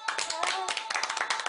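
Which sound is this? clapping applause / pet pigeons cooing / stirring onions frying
clapping applause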